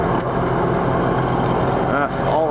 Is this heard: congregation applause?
no